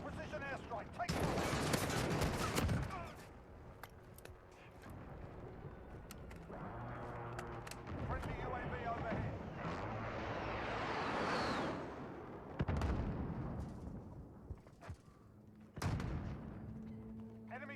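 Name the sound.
precision airstrike explosions in Modern Warfare video game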